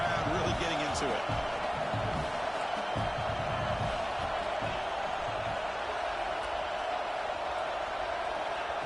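Football stadium crowd in the CFB26 college football video game, a steady roar of cheering on third down with a few thumps and whoops, under a commentator's voice.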